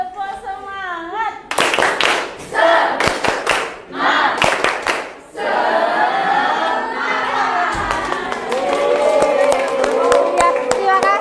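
A crowd does the 'tepuk semangat' spirit clap in an Indonesian classroom: loud rhythmic bursts of group clapping at the start, then cheering and shouting voices carrying on to the end.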